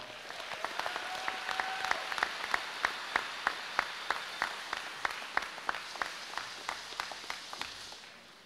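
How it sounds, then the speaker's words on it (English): An audience at a school welcome-back general assembly claps for the superintendent, a steady spread of hand claps with sharper individual claps standing out at a regular pace, alone and without talk. "It's another round of applause for our superintendent of schools, Mr. Cavazos"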